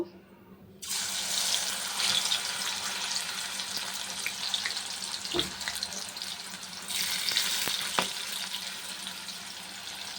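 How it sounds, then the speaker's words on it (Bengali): Sliced bitter gourd drops into hot oil in a wok and sizzles with a steady, broad hiss that carries on throughout, close and fairly loud, briefly easing near the middle before surging again. "এ দেখো তেলটা গরম হয়ে গেছে এবার উচ্ছেগুলো ছেড়ে দেবো"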